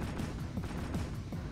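Rapid gunfire from Jak II pelts a wall in a quick string of overlapping shots, steady and dense throughout the short burst.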